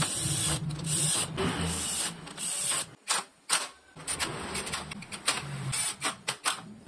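A powered driver whirs in repeated short bursts while bolts are fastened onto the frame of a prayer-time clock. Each burst is close and fairly loud, with brief pauses and small clicks between them.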